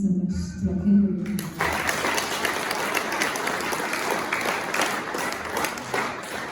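A church congregation in Ruyigi bursts into loud, sustained applause after a short stretch of voices, the clapping filling the space as a dense, steady wash that continues to the end.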